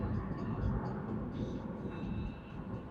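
A steady low rumble of an LRT light rail train rolling past on a Philippine city road route, continuous and moderately loud, with faint higher squeals above it.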